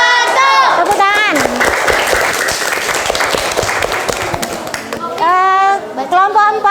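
Students in a classroom clap for a group presentation, a burst of scattered hand claps amid children's excited voices and shouts, with kids' chatter rising at the start and end.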